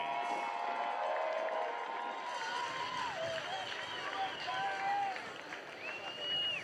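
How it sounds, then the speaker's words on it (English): A crowd cheers and claps for the Olympic surfers at the ISA World Surfing Games, a dense, steady roar with whistles and shouts rising over it throughout. "Big round of applause."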